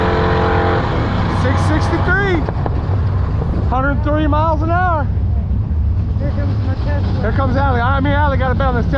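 Cars at a drag strip, an old Plymouth lined up against a Tesla, with a loud engine revving and rising in repeated bursts, heard close and steady. Voices talk over the engine noise throughout.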